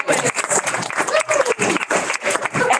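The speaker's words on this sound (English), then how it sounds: "We give Senator Watson a round of applause" Audience applause for a senator at a climate caucus meeting: steady dense clapping across the whole stretch, moderately loud, with some crowd noise mixed in.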